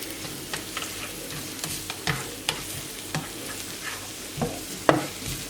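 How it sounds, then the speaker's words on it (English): Onions sizzle in a frying pan with garlic for a chanterelle mushroom sauce: a steady, close frying hiss broken by sharp clicks and scrapes from stirring, with no talking. "this sizzling already. We can put in the onions."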